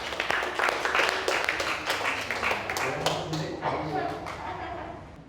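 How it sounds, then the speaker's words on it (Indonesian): Classroom of students clapping together in a lesson, a brief burst of scattered applause that thins out, mixed with voices talking. "Tepuk tangan untuk kita semua."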